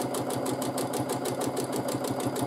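A sewing machine running steadily through free motion quilting, its needle punching in a fast even rhythm, close and continuous with no talk.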